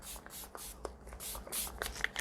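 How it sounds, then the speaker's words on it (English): A Switch Beauty Superhero setting spray is misted over a finished pastel Valentine's makeup look in several quick, soft hissing spritzes, quiet and close, with brief pauses between bursts. "the last finishing touch is obviously setting spray"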